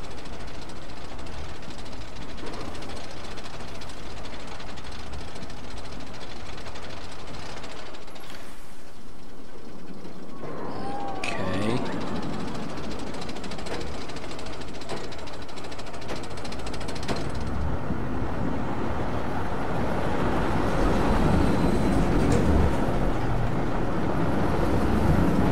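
A coaster train rides a tropical-themed Planet Coaster track with two lift hills, a loud continuous rumbling roar with clattering wheels, rising and swelling toward the end, with no voices.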